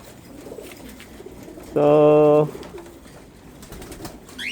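Pigeons in a loft give a single clear, fairly loud coo midway, rising above a low background hum and faint talk.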